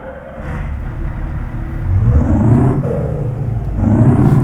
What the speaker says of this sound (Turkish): Kontağımızı açtık. Vites boşta marşımızı yapacağız.